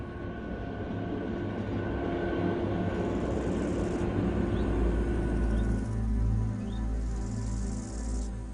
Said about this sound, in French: Le train poursuit sa descente en lacet vers Poschiavo.